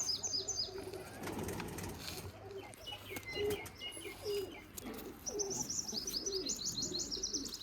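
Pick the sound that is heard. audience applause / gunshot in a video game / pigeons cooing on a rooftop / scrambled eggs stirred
pigeons cooing on a rooftop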